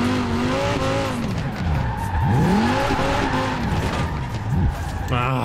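The Quadra car from Cyberpunk 2077 drifting in Forza Horizon 4, its engine revving and swooping up and down while the tires squeal continuously and loudly through the slide.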